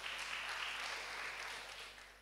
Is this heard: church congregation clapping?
yes